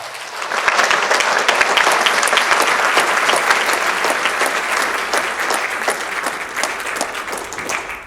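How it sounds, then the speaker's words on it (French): Sustained applause from a seated audience welcoming someone speaker onto the stage at an event on Malagasy language and culture, dense and steady clapping at full volume for about eight seconds with no voices over it. "Je vous demande de l'accueillir avec un tonnerre d'applaudissements"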